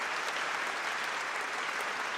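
Dense crowd-style applause played as a sound effect, steady and even clapping filling the whole short stretch at moderate volume, with no speech.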